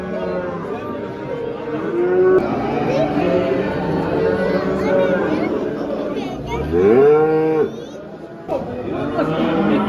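Cattle moo at a busy live animal market in Vezirköprü, one long, loud rising call standing out near the end over steady crowd chatter and other distant lowing.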